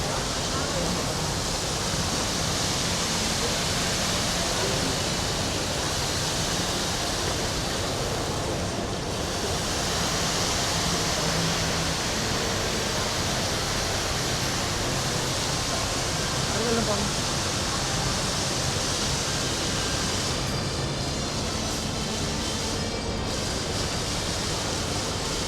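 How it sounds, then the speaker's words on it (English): A continuous rushing wash of falling water from an indoor waterfall at ICONSIAM mall in Bangkok fills the space, a steady broadband hiss with no breaks. "Looks like they've got the waterfall going."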